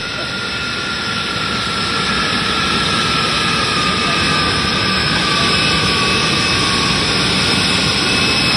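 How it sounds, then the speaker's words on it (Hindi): A jet plane carrying India's Prime Minister Narendra Modi arrives at Bishkek for the 2019 SCO Summit. The engine gives a loud, steady roar and whine that holds without a break throughout. "उनका विमान इस वक्त बिश्केक में पहुंच चुका है"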